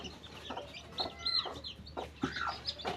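Chickens, a mother hen with her newly hatched chicks, cluck softly and fairly close in a quiet room. Short, irregular clucks and chirps come every fraction of a second.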